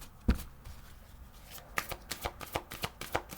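Tarot cards are shuffled by hand, starting with a single sharp knock, then a quick run of soft riffling slaps in an even rhythm, close and fairly quiet.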